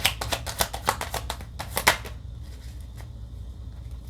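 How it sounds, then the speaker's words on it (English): Rapid riffling of a tarot card deck, a quick series of crisp flutters for about two seconds, then quieter handling of the cards. "Let's give the deck a good shuffle"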